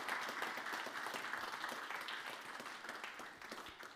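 An awards-ceremony audience applauds the nominees, a dense, even wash of clapping from a crowded hall that stays fairly quiet and steady throughout.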